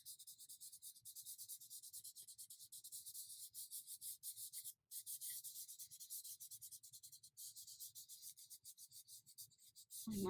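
Chalk pastel rubbed gently across paper makes a soft, rapid, continuous scratchy rasp in quick back-and-forth strokes, close and fairly quiet, with one brief pause midway; no talking.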